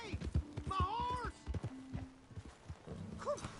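Hooves clip-clop briefly in a PS4 video game, a few quick hoofbeats near the start, with game characters talking over and after them.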